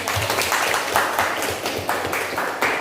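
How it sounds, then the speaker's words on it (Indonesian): A class of children applauding together in a classroom, a steady mid-distance patter of many hands with rhythmic surges, continuous throughout without speech. "kasih aplaus dulu untuk India"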